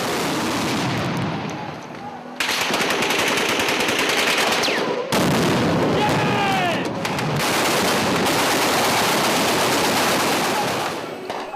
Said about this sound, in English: Then a deluge of gunfire.